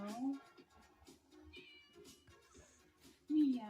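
A cat meows in short, pitched calls, one at the start and another near the end, with quieter sounds in between.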